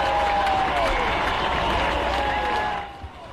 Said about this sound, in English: There's people cheering in here, Earl?